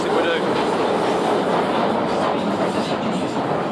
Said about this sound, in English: Time for a long journey on the Northern Line.